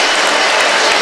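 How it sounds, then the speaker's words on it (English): A football stadium crowd roars and applauds after a long-range goal, a dense, loud, steady wall of cheering and clapping that fills the whole moment without letup. "The crowd just rose as one there. What a roar."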